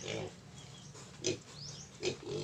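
Several grunts and snorts from five growing pigs on a farm, coming in short bursts with pauses between them, fairly close and clear, with no talk over them.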